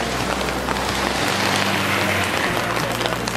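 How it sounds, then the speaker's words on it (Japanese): Heavy rain pours down at a Shikoku pilgrimage temple in Tokushima, a dense, continuous hiss of drops pattering on surfaces, loud and unbroken, with no one talking. "今日はあいにくの雨が激しく降ってますけれども"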